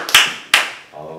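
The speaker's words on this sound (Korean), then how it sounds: "용기의 박수." Two sharp hand claps ring out close and loud, about half a second apart, followed by a brief trailing voice.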